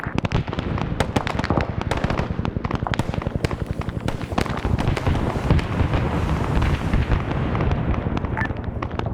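Helicopter rockets in a combat video game fire and strike targets in a rapid, dense barrage of sharp cracks and bursts, loud and nearly continuous for several seconds with no speech.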